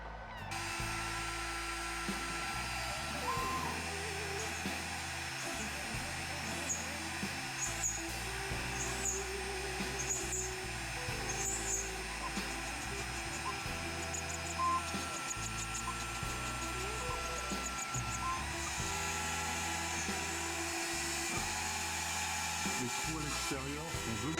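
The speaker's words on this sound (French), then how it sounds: "Avec une fraise de 2, on va commencer par faire les entourages de humbucker." A router with a 2 mm bit cuts humbucker surrounds into a guitar part, a high whining drone with steady cutting grind that rises and dips as it moves, sustained and fairly close, with a voice talking over it.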